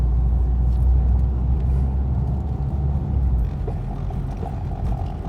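A car roars past on a residential street at night, a loud low rumble that stays strong and then eases off slightly as it moves away, with no talk.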